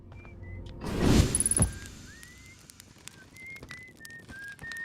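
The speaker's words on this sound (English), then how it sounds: "Whistling away there." The character Esker whistles in the Outer Wilds video game: a thin, wavering tune of short rising and gliding notes, fairly faint and distant, interrupted early by a soft thump and rustle, with no speech.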